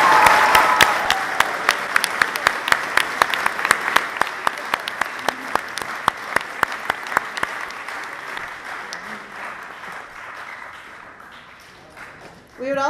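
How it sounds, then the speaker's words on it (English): Audience at a school's eighth grade awards ceremony applauds steadily for about twelve seconds, with crisp individual claps standing out over the crowd's clapping before it tapers off and a voice returns. "How about a round of applause for them?"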